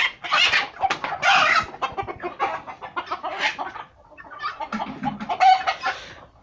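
Chickens and guinea fowl on a farm cluck and squawk in a steady, busy stream of overlapping calls, fairly close, with a brief lull before the clucking picks up again.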